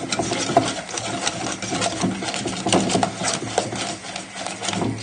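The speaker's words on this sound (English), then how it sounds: "so nice, vigorously whisk it" A whisk beats thick pancake batter in a bowl with quick, rhythmic scraping and tapping strokes that continue steadily throughout, close and moderately quiet.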